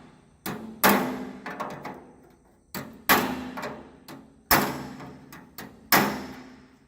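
Hammer blows against a dented steel fender of a deuce and a half military truck, backed by a dolly: four sharp metallic strikes, each followed by quick rebounding taps, close and loud with no talking.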